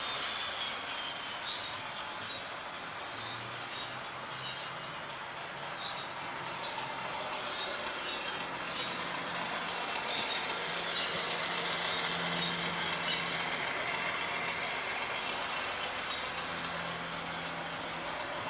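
A TT:120 model Class 50 diesel locomotive's sound decoder runs a steady, droning engine note that settles toward idle, with faint rail-like squeals and hum throughout and no talking.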